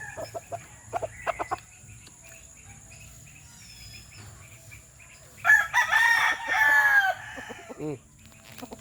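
Scattered hen clucks early on, then a loud rooster crow rings out nearby, followed by a second drawn-out crow and a few more clucks.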